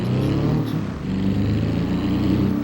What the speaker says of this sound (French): Ok, donc voilà l'Autobello Piccolina. Donc, c'est une voiture typiquement italienne, hein. Écoutez le beau bruit.